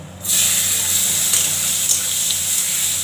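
Onions drop into hot oil already spiced with cardamom, cinnamon, cloves, bay leaf and cumin, bursting into a loud, steady sizzling hiss that continues close and unbroken.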